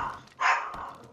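A dog barks once, sharp and fairly close, inside the survival video game 7 Days to Die, standing out above faint background game sound.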